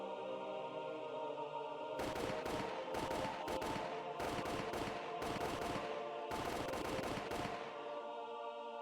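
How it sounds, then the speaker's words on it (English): Soldiers firing guns in the Higurashi video game: three rapid bursts of overlapping shots, loud and sharp, ringing out over a steady droning background with no talk. "The sound of gunshots echoed in the silence."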